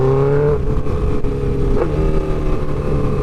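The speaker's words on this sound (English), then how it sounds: "That was a nice clutchless downshift right there." A motorcycle engine revs loud and close, its tone dropping and then climbing again during a clutchless downshift, with steady mechanical roar throughout.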